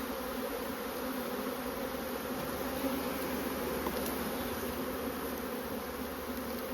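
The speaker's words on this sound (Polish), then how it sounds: "to jest po prostu grupa pszczół, które zabłądziły" A swarm of honeybees buzzing steadily around a hive box in an apiary, forming a dense, continuous drone with no voices.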